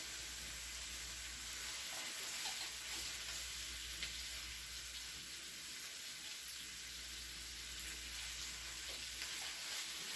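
Zucchini and carrots sizzle steadily as they fry in a pan, with the continuous frying hiss broken by faint scraping from stirring, close and even throughout with no talking.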